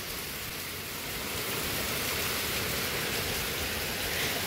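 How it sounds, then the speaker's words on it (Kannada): Heavy monsoon rain falling: a constant, dense hiss that swells slightly louder over a few seconds, with no voices and no other distinct sounds. "ಹೆಂಗೆ ಬರ್ತಿದ್ಯಮ್ಮ ಮಳೆ?"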